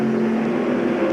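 Stock cars at speed in the 1998 Winn-Dixie 300 NASCAR race, a loud sustained engine drone with steady tonal whine and little variation, heard briefly without commentary.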